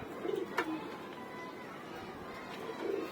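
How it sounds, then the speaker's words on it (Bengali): Pigeons kept in a home rest loft give a couple of soft, low coos, moderately near over a faint steady background hum. "আর এগুলো হচ্ছে আমার রেস্টের কবুতর, এখানে আমি কবুতরগুলো রেস্টে রাখি"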